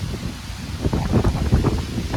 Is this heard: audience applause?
no